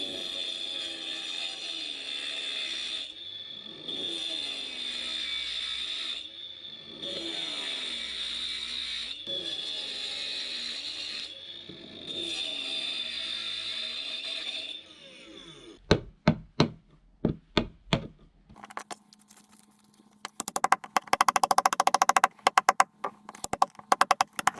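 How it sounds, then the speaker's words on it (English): A grinder claws out a shower tray around the drain in repeated rough bursts with brief pauses between them, followed by scattered knocks and clatters and then louder, harsher grinding near the end. "So back to the grinder."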